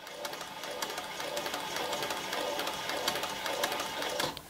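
A Cobra Class 4 heavy-duty sewing machine stitches steadily around a curve, its needle hammering in a fast, even rhythm with a whirring motor, close and continuous, then stopping abruptly.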